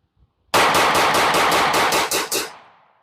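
A Smith & Wesson Shield Plus 9mm pistol fires Fiocchi ammunition in a rapid string of about nine close, loud shots at a fast steady rhythm, ending with a fading echo and no talk.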